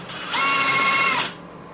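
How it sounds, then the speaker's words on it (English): A short, high-pitched whir of a power drill spinning up to drill through a metal bracket, running about a second, then stopping, close by. "now I'm going to drill the hole through the other side"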